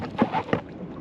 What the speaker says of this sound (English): Oh man, I just seen a fish jump.